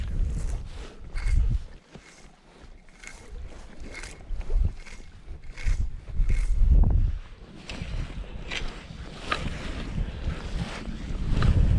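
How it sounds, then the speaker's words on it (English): Strong wind gusts buffet the microphone at a mountain reservoir lake during fly fishing, a loud low rumbling roar that surges and fades repeatedly, with faint water lapping beneath. "the wind is picking up pretty hard"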